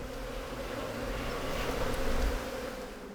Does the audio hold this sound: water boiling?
no